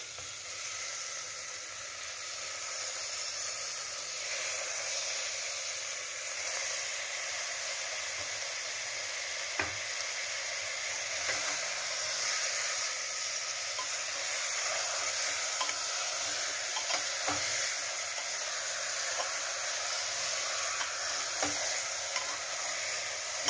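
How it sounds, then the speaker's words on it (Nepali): Chicken pieces sizzle and fry in a pot with spices and softened tomato for a local Nepali khukhura jhol, a steady broadband hiss with scattered light clicks and scrapes of stirring, no voices. "यी मसला पनि मजाले भुटियो। अब म मासु हाल्दैछु साथीहरू।"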